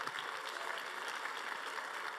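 An audience at a Toastmasters event applauds the speech contest participants with continuous, dense clapping that stays steady and fairly soft through the short stretch.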